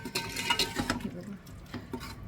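A spoon stirs spices and salt through a prawn biryani mixture in a pot, soft wet scraping and light clinks in a quick uneven rhythm, close and moderately quiet.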